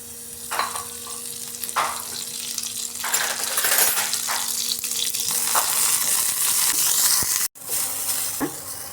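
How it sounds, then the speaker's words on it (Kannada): Green chillies fry in a little oil for coconut chutney with loud continuous sizzling, repeated scrapes and taps of a stirring spoon against the pan, and a brief break near the end. "ಮೊದಲು ಹಸಿಮೆಣ್ಸಿಕಾಯನ್ನು ಹಾಕಿ ಚೂರು ಎಣ್ಣೆ ಹಾಕಿ ಹುರ್ಕೋಬೇಕು"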